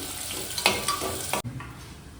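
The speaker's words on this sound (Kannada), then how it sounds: "ಚೂರು ಈರುಳ್ಳಿ, ಇದನ್ನ ಸ್ವಲ್ಪ ಫ್ರೈ ಮಾಡ್ಕೊಳ್ಳಿ." Onion frying in a pan for veg biryani, a close, steady sizzle with a few stirring scrapes and clinks over about two seconds, then a sudden cut to a quieter, duller frying sound.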